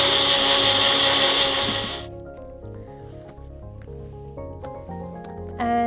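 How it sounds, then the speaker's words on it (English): A small blender blending carrageenan whirs loudly for about two seconds, then cuts out, leaving quieter clattering and handling noises before a brief burst at the end. "I'm just gonna blend it in batches"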